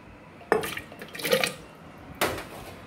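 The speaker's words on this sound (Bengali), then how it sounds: "আমি কচু আর আলুটা সেদ্ধ করতে দিয়ে দিচ্ছি" Pieces of cut taro and potato are dropped into a cooking pot in three separate clattering bursts, close and moderately loud, the middle one longer and busier, with quiet gaps between them.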